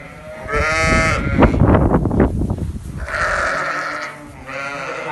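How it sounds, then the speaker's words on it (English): Ewes bleating in a farm shed where about 35 ewes carrying triplets are housed; several loud, overlapping bleats rise and fall across the clip, close by and continuous with no talk. "there's about 35 ewes that are expecting triplets"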